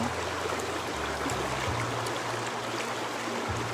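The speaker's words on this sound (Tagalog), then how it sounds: "Ang sarap pakinggan ng tubig sa ilog, no?" River water flows steadily and close at an outing spot, a broad, continuous rushing wash with a low rumble underneath and no voices.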